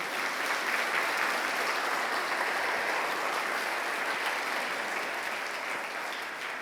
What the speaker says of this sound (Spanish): ¿Alguien puede darle un aplauso a Jesús por ello?